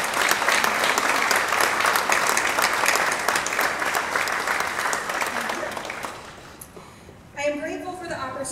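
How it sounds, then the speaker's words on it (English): An audience at a senior honors ceremony gives sustained, dense applause for about six seconds before it fades out, and a voice then begins speaking. "let's give everybody a round of applause for their impact"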